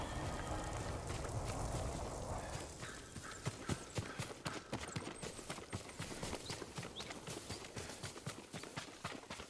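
Steady clip-clop of horse hooves trotting on hard ground in the video game Ghost of Tsushima, a continuous rhythmic beat with a low ambient rumble, no voices.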